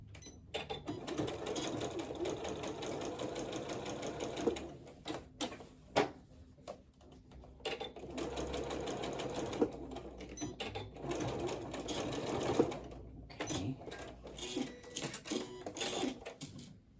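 A sewing machine runs in steady bursts while stitching elastic for a McCall M8256 garment, the motor whirring loudly with short pauses and restarts between passes.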